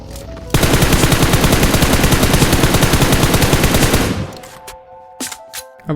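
Rapid automatic gunfire in PUBG Mobile rattles out in one long, dense, loud burst lasting several seconds, then a few scattered shots and game sounds follow.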